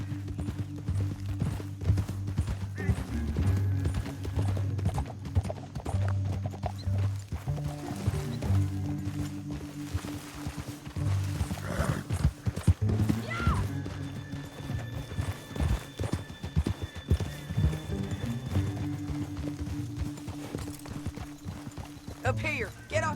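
Hooves of horses in the Red Dead Redemption 2 video game clip-clop rhythmically and continuously, with occasional snorts and whinnies, under game music and intermittent talking voices.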